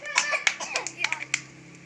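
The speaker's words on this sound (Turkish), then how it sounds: "İkra'ya alkış" Small group of children and adults applauding a child during a playful movement activity, a short burst of light, irregular claps, close by, with faint voices mixed in.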